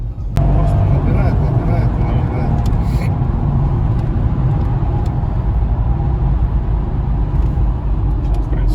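A Mercedes W211 E500 fitted with a swapped M113 V8 from an S500 W220 drives along, a loud steady engine rumble and road noise inside the cabin, with people talking over it.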